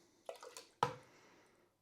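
Water is poured into pizza dough during kneading, a few soft splashes followed by one sharper wet slap that fades over about a second, close and quiet, with no speech.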